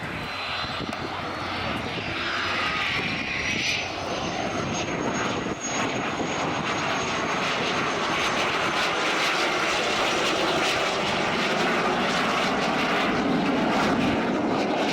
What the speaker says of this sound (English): Now we see the pace being slowed a little as the aircraft comes in undercarriage down,